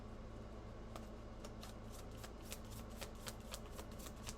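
Wizard's Tarot cards being shuffled close up, a quiet run of quick riffling flicks and soft card slaps repeating steadily with no talking.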